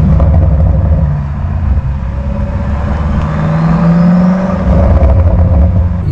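A 2018 BMW M5 F90 drives with a loud, steady engine and exhaust drone heard from inside, its pitch rising and falling with throttle and gear changes.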